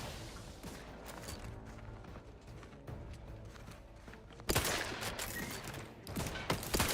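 Gunfire in the video game Arc Raiders comes in quick bursts of shots, quieter at first and then a sudden louder barrage partway through, with scattered sharp cracks continuing after it.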